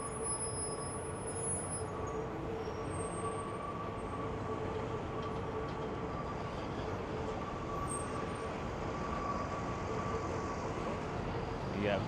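A subway train at Queensboro Plaza station in Long Island City, New York, rumbling steadily for several seconds with a constant roar and faint high squeals, like a passing train heard from nearby.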